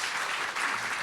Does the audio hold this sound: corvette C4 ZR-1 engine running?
no